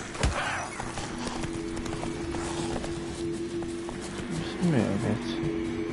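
Roach, a horse in The Witcher 3 video game, gallops with steady clip-clop hoofbeats over game music, with a player talking now and then.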